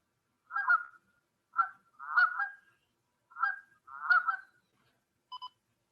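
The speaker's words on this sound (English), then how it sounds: "And the Canada goose." Five loud, nasal honks from a Canada goose, spaced about a second apart and heard alone in near silence, followed by a brief electronic double beep.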